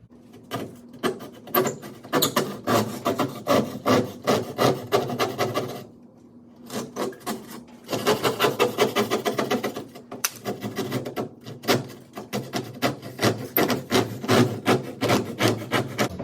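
Drywall is cut by hand with a saw for a patch repair, the blade angled away from the hole. Quick rhythmic rasping strokes run close and loud, with one brief pause before the sawing resumes.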